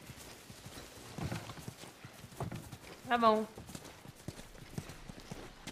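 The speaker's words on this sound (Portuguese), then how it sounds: "Vocês têm cavalos." Horse hooves clip-clop softly in The Last of Us video game against a noisy background, with a brief whinny midway and a voice speaking.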